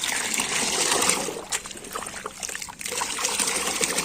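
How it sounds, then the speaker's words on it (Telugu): Liquid banana fertilizer poured into bottles in a rooftop garden, a close trickling and gurgling stream of liquid that pauses briefly midway and then runs on. "దీన్ని బాటిళ్ళలో స్ప్రే చేసుకోవడానికి పోసుకుందాం"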